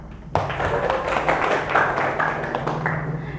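Classroom applause for a student who shared an opinion: a burst of clapping from many hands starts abruptly and continues steadily at close range for about three seconds.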